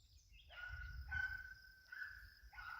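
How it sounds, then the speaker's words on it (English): A dog barks repeatedly at a distance near cattle, a few sharp calls spread across the moment, with a steady rumble of wind or engine underneath. "Dog's barking at something."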